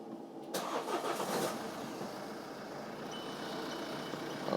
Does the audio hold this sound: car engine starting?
yes